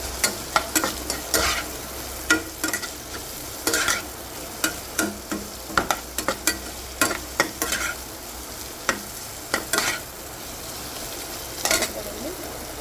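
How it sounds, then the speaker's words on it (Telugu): Onions fry in a pan while a spoon stirs them in steady, repeated scraping strokes over a soft continuous sizzle, close and fairly quiet. "ఆనియన్స్ కూడా ఫ్రై అవుతూ ఉంటాయి"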